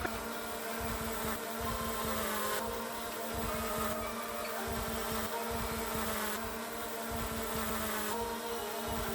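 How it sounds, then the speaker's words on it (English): Small insects buzz steadily and close outdoors, a continuous droning hum with pitch wavering slightly, sustained throughout with no voices. "Little insects."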